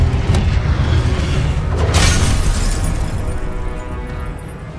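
A loud, booming fire-spell explosion from the Hogwarts Legacy game bursts with a sharp pop near the start and swells again around the two-second mark, ringing out over a rumbling low roar with no talk.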